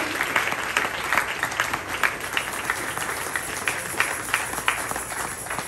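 Guests at a church wedding burst into vigorous, sustained applause, a dense crowd of hands clapping close by for several seconds with no speech.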